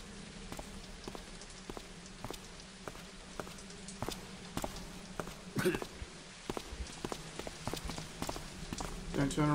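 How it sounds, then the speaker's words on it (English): Footsteps approach through steady rain in a Thief fan mission set in a rain-soaked level: a regular series of sharp taps over constant rainfall, growing louder and nearer toward the end. "Footsteps approaching this direction, it sounds like."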